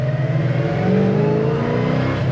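A 1971 Pontiac GTO with a 4-speed accelerating hard, its V8 engine roaring loud and close with a rising, steady growl throughout.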